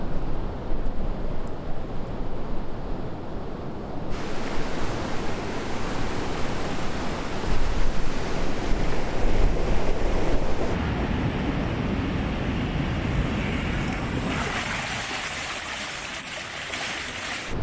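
Ocean waves and surf at an Oregon coast sea stack, a continuous loud roar of breaking water with wind buffeting the microphone, swelling and easing over time, no talk.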